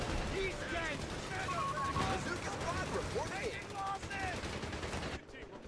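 Battle gunfire in Company of Heroes 3 on an Italian campaign map: sustained rattling machine-gun and rifle fire with scattered shots over a steady wartime din, while voices shout under the shooting. The noise drops off abruptly at the end.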